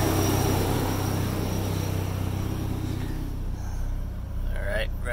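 A Mazda RX7 engine idles with its AC compressor engaged, giving a steady, close mechanical drone that eases slightly partway through.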